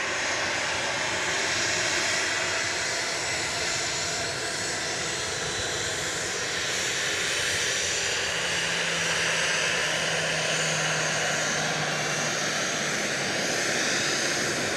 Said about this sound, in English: It's flight 2513, just touched down from Orlando, Florida.